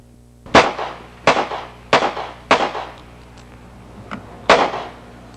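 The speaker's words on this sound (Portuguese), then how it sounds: "cuidado com os tiros aí" Gunshots fired in a row, five sharp loud reports spaced roughly evenly with a fainter one between, each with a short decaying tail over a low steady background hum.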